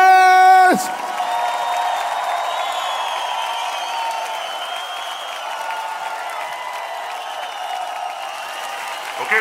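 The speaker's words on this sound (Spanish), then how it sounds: "El mejor aplauso al Rey de Reyes." An audience at a Christian worship concert applauding and cheering right after a sustained musical note ends, with steady, fairly distant crowd clapping and whoops continuing throughout.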